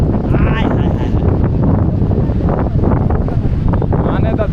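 Strong sea wind buffets the microphone at the seashore of Mangrol port in Gujarat, a steady loud roar with gusty rumble throughout, and someone speaks over it.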